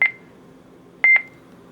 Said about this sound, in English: you'll hear the beep when I start the scan